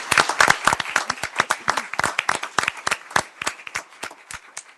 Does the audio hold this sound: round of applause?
yes